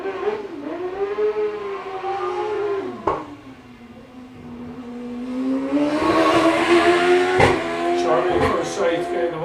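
A sprint race car on the Littleferry layout at Golspie revs hard through the gears with a wailing, rising and falling engine note, loud and near, while a commentator talks over it.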